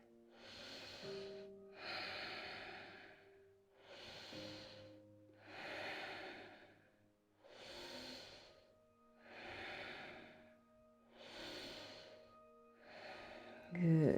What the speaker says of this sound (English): Take 5 deep breaths here.